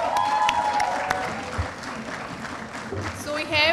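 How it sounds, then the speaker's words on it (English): Applause from a ceremony audience at a university Model UN closing ceremony, a steady wash of clapping carrying through nearly four seconds with voices mixed underneath. "Give it a big round of applause."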